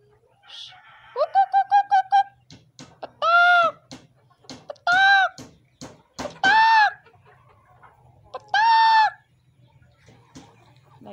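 Chickens at a rural coop, including a rooster, cluck and squawk close by. A rapid burst of short clucks gives way to several drawn-out, loud calls spaced a second or two apart, with scattered clicks and rustles between them.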